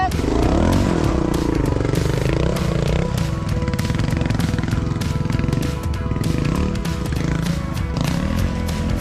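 Trial motorcycle engine revving hard and sputtering as the bike climbs an obstacle course at a trial park in Suncheon. The engine is loud and close, with a commentator talking over it throughout.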